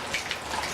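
Spring rain pours steadily during thunderstorm season, a close, even hiss of drops pattering on surfaces with a few brief brighter splashes and no voices.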